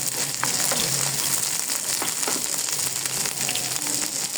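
Garlic frying in hot mustard oil, a dense continuous crackling sizzle at close range with small pops throughout and no voices.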